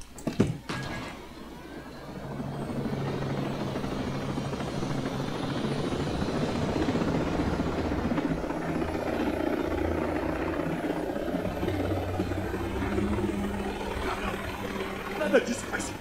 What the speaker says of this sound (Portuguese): Aí, um de helicóptero.